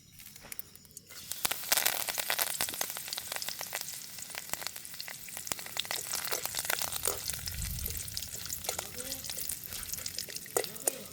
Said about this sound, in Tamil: நான் இந்த கச்சாம்பருப்போட ரெண்டு மூணு கருவேப்பிலையும் அதோட பொரித்து சேர்க்க போகிறேன்